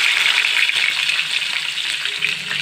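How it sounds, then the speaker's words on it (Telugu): Tempering seeds and green chillies frying in hot oil, a steady bright sizzle that crackles continuously without voices. "తాలింపు గింజలు వేగిపోయిన తర్వాత పచ్చిమిరపకాయలు అయితే వేసాను"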